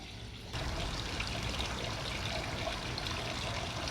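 Water running steadily behind the camera position outdoors, a constant hissing, splashing flow that starts abruptly and stays even and moderately loud, with no talk over it.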